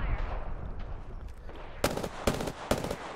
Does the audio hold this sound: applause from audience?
no